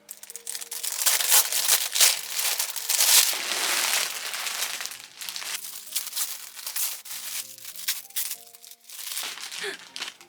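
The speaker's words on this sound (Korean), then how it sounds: "가장 뭔가 많이 들어가 있는 것 같이 보이는 이 비닐부터 뜯어볼게요" Plastic clothing-delivery packaging crinkles and rips open in bursts of loud rustling and tearing, close up, with brief pauses between pulls.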